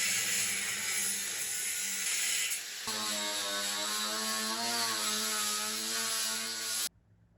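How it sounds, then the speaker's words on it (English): A power tool works rectangular metal tubes for a welding table, a loud steady whine that shifts pitch partway through, then stops abruptly near the end. "I will cut and sand rectangular tubes to make the welding table."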